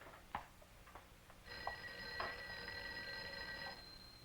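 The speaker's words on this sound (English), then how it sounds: "I think your phone is ringing." A telephone rings in a quiet room, its bright electronic trill starting partway through and holding steadily for a couple of seconds before cutting off, with a few soft knocks and clicks before it.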